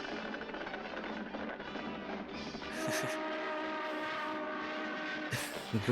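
A steady rumbling train-like chug with rising whistle tones partway through, sounding busy and cartoonish, continuous throughout.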